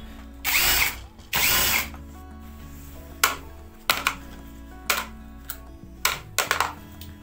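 A cordless screwdriver backs screws out of the gear housing of a petrol hedge trimmer: two loud, close motor whirs, followed by a series of sharp mechanical clicks and rattles.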